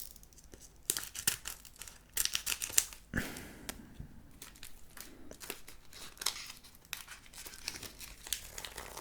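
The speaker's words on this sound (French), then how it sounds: "Ciseaux." Scissors snip and crinkle through plastic packaging on a Pokémon Charizard GX box, close and quiet, with irregular cutting clicks and crumpling rustles and no speech.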